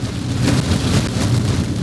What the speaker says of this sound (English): it's an absolute deluge